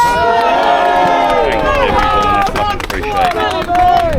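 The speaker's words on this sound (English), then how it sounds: "Can we get a round of applause?" A crowd at a gathering near a Heathrow Airport hotel in West Drayton cheers and whoops loudly, rising voices layered over scattered clapping and general hubbub throughout.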